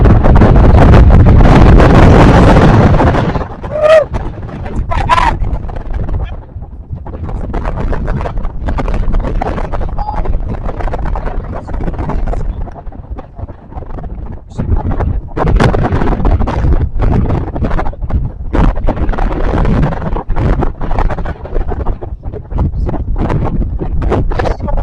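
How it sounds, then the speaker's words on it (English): A loud, roaring wind gust during an evening thunderstorm batters the microphone for a few seconds, then settles into ongoing gusty buffeting and rustling. "we got hit with that pretty hefty wind gust"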